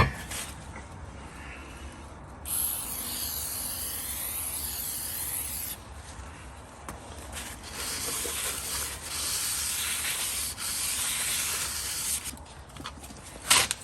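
A clean towel is rubbed firmly over a Ford F150 rear brake rotor in repeated swishing strokes, close and fairly loud, with pauses between passes.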